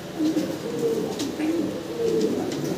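Fancy pigeons cooing at a pigeon sale in Bangladesh, a repeated soft rolling coo about every second, close and clear over a faint background murmur.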